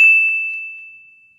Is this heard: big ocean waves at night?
no